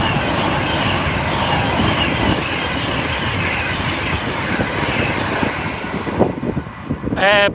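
A passenger train from Manchester Piccadilly to London Euston rumbles past nearby with rolling clatter, loud and sustained, ending with a brief high wheel squeal.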